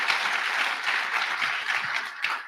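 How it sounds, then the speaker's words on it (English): Conference audience applause for two speakers: an even, sustained wash of many hands clapping, moderately loud and fairly close, with no break across the short stretch. "If we can give them a round of applause, please."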